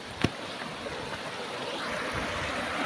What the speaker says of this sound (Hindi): तो ये पानी चल रहा है इसको गाइस, पानी का शोर देखिए गाइस आप।